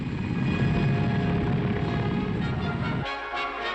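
Helicopter rotor and turbine drone in a mountain rescue setting, loud and steady with a dense low throb that drops away abruptly near the end, leaving a thinner, quieter engine hum.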